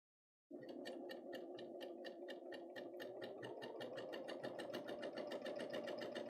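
A Bernina serger overlocker runs steadily as it stitches fabric with a bi-level foot, producing a continuous, close, rapid mechanical whirr with fast rhythmic needle clatter that starts abruptly and holds alone throughout.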